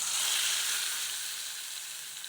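A mixture of onions, spices, garlic, salt and chilli hits hot oil in a home kitchen pan, giving a loud, steady close sizzle that fades slightly over a couple of seconds with no voices.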